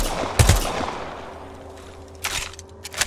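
A few scattered gunshots in Apex Legends, fired singly rather than in a stream, moderately faint against a soft background hiss.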